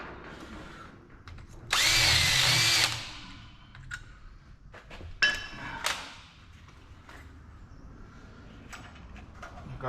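A power drill with a cobalt bit bores into metal on a crank handle dumper conversion, a loud steady whine of about a second followed by short metallic bursts and clanks, close by with no talk.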